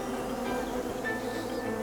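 Honeybees buzzing at a beehive colony, a dense steady drone of many wings close by, with a few individual bees whining past over the hum and no voices.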